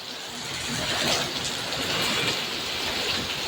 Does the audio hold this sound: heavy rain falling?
yes